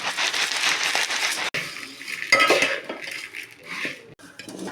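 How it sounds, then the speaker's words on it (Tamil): Bhel puri being tossed with chaat masala in a bowl, a continuous dry rustle with scraping and clinking of utensil against the bowl, close and fairly loud, with a brief pause midway and no voices. "ஓகே, இப்போ இதை மிக்ஸ் பண்ணிக்கலாம் நல்லா."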